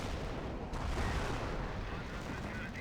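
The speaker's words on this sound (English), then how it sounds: "Another round of Calliope barrages." A Calliope rocket artillery barrage in Company of Heroes 1 makes a continuous, dense roar of rumbling blasts with no gaps, likely under faint commentary.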